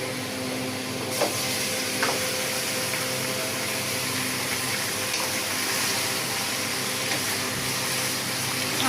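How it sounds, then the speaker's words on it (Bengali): Marinated meat hits frying onions in a pan, a dense steady hiss and sizzle that continues evenly throughout, with a couple of faint clinks from cookware. "এখন যে আমি মাংসটা আগে ম্যারিনেট করে রেখেছিলাম ওটা এখন ঢেলে দেবো"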